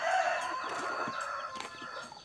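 A rooster crows loudly and close by from a chicken coop in a village yard, its drawn-out call rising over steady background clucking and rustling of other chickens, with no voices.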